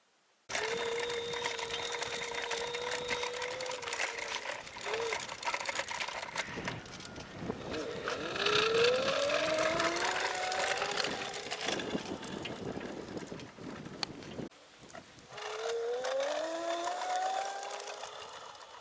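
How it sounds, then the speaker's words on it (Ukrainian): An electric scooter motor running without its Hall sensors hums and whines continuously, with rising and falling pitch as it speeds up and slows, plus some rattling and clatter. "Трішки мотор так гудить без датчиків хола, але нормально тягне."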